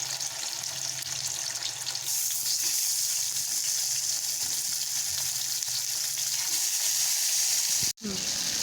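Koi fish coated in turmeric sizzles in hot oil in a pan, a loud, continuous frying hiss that lasts nearly the whole stretch with a brief break near the end.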